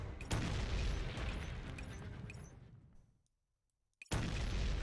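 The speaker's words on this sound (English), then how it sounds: "with it comes the endless sounds of explosions" Explosions in the video game Neural Cloud roar as a dense, loud rumbling barrage that fades out to silence, then a fresh blast bursts back in at full force.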